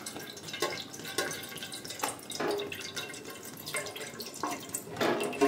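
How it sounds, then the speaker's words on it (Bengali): A little water is poured into a cooker, over an upturned aluminium plate, for a steamed caramel pudding. Light splashes and drips continue steadily at moderate, close-up level, with no voices. "তার মধ্যে অল্প একটু জল দেব, ব্যাস সামান্য"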